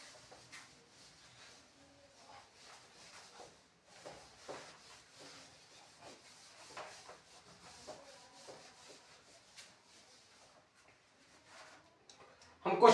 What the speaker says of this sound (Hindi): मैं इसको रब कर दे रहा हूं,